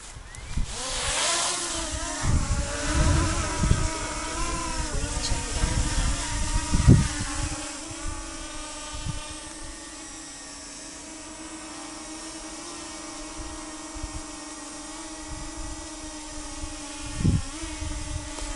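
A DJI Mini 2 drone takes off and flies in windy conditions, a tonal whirring hum with shifting pitch that is loudest early on, then settles into a quieter steady drone with gusty wind bursts.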